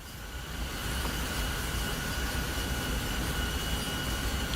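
A heavy MBTA commuter locomotive in a Boston railroad simulator hums under dynamic braking, a dense, loud, continuous drone with a faint steady tone riding on top, unbroken for several seconds.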